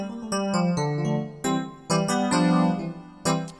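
Highlife gospel chords on a keyboard, played as a quick run of bright, full stabs and sustained chords in an uneven rhythm, close and clear with no voices.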